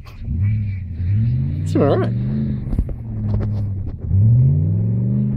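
A VN with a 5-litre engine does a burnout on capeweed, its engine rumbling and revving in repeated rising surges with a sharp flare midway. Someone speaks briefly over it.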